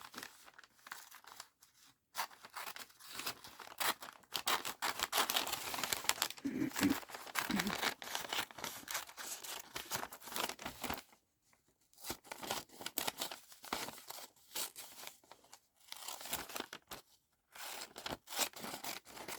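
Crisp snips and crinkles of paper being cut with scissors, in irregular bursts with brief pauses, close and fairly quiet.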